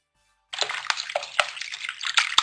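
Raw eggs whisked in a bowl for egg halwa, a close, wet, sloshing rattle with quick irregular taps of the utensil against the bowl, starting after a short silence and continuing steadily without speech.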